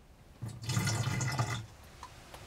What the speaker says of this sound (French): Donc je mets un fond d'eau